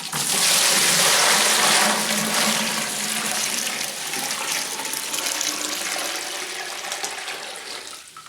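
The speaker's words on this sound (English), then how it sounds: "We're gonna transfer this over to the fermenter" Sugar wash pouring into a fermenter, a steady loud rush of liquid that is strongest in the first two seconds, then settles into a continuous splashing stream until the end.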